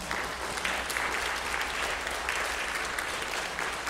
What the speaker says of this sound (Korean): 여러분 기쁘게 우리 교회의 일원으로서도 받아주시는 환영의 박수 부탁드리겠습니다.